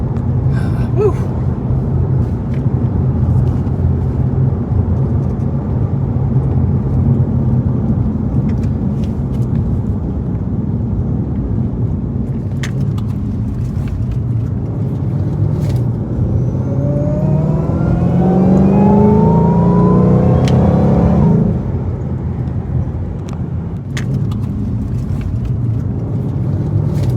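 A Ford Shelby GT500 engine pulls loud and close while driving, its roar climbing steadily in pitch through a long rev near the end, then cutting off abruptly as the throttle lifts, with cabin rumble underneath throughout.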